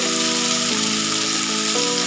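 Cut potatoes frying in a hot pan for a sea fish curry, a close, steady hiss and crackle of sizzling oil that holds for the whole moment, with a couple of soft shifts as the pieces settle.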